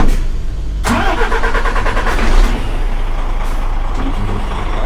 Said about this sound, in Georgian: ეხლა დაქოქე აცადე რომ ჯერ აწიოს მანქანამ